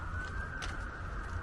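Horns of a tractor brigade in a Gdansk street sound as one steady, sustained tone that holds unbroken, moderately distant and even in level, over a faint street background.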